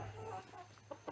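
Older adult backyard chickens clucking softly and continuously at close range, with a few louder bursts near the end.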